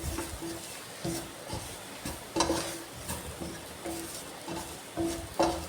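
Chickpeas for kadala dry roast stirred in a pan with pepper powder, heard as a soft sizzle with regular scraping strokes of a spoon and faint clinks against the pan, quiet and close with no talk.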